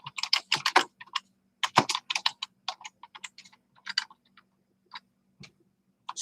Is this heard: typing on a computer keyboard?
yes